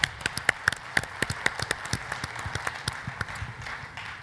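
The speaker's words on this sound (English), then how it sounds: "Let's give it a round of applause for Vegas." An audience applauds Las Vegas at a smart city technology conference, with sharp, distinct claps sounding at a steady pace and a faint crowd murmur between them.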